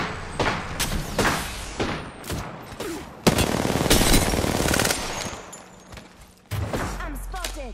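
Bursts of automatic weapon fire from the Apex Legends battle royale crack out in several loud volleys separated by short gaps, with a sharp heavy stretch in the middle and another burst near the end.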